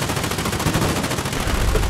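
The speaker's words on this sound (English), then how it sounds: "Whatever gun he was just shooting, he was shooting so much faster than my gun." Rapid rifle fire from the video game Foxhole, a dense, continuous stream of fast shots rattling on without pause for the whole two seconds, loud and close with no voices.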